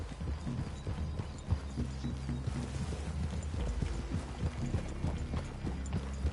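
Horses' hooves clip-clopping in a PS4 video game, a brisk, continuous clatter of several animals moving together, fairly close and moderately loud over a low background rumble.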